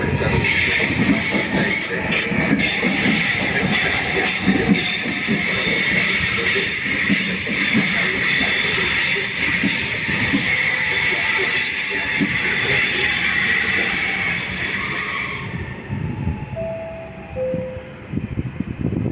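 A train rolls into Padova station with wheels squealing loudly and steadily against the rails, then slows as the squeal fades and rumbling gives way to quieter movement.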